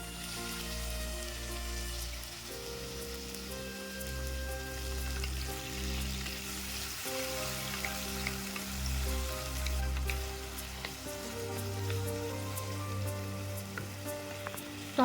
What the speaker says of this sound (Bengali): পেঁয়াজ বাদামি হয়ে ভাজা হয়ে গেলে আমরা কুচি করে কেটে রাখা টমেটো দিয়ে দিচ্ছি।